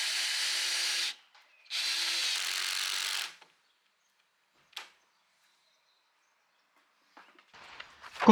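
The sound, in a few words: drill fixing chicken coop wall with brackets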